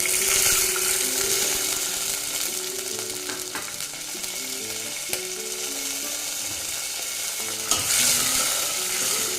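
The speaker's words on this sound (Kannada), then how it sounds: "ಹುಣಸೆ ರಸ ಹಾಕ್ತಾ ಇದ್ದೀನಿ" Garlic and pepper rasam base sizzling and frying in a pan as tamarind juice is poured in, a steady loud hiss with stirring scrapes and a few sharp clinks, no voices.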